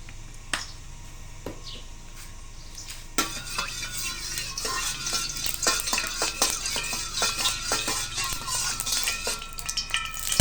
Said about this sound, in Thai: ปิดท้ายที่เมนูผัดผักบุ้งไฟแดงกันนะครับผม